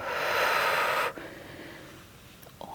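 A Pilates instructor takes one long, audible breath close to the mic that lasts about a second, then stops sharply, leaving a quiet room with a faint breathy noise near the end.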